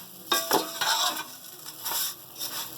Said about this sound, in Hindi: ये इलायची के पाउडर के साथ में भून रही हूँ इनको।